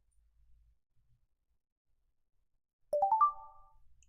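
A trading platform notification chime on a futures day-trading setup: a short, bright rising run of tones near the end, alone after near silence.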